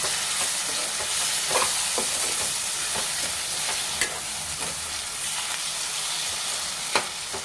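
A spoon stirs tomato and brinjal curry in a hot pan, giving a continuous sizzle and frying hiss broken by several sharp scrapes and clinks against the pan, with no talking.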